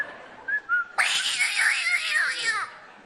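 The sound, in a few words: person imitating a cat meowing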